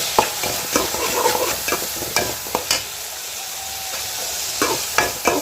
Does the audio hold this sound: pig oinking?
no